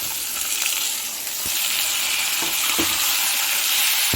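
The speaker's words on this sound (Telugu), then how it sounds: "కరివేపాకు కూడా వేసేస్తున్నాం ఉల్లిపాయలు ఇలా బాగా వేగాలి" Onions and curry leaves fry in a pan, a loud close bubbling sizzle with a watery, gushing quality, broken by several quick knocks of a spoon stirring the pan.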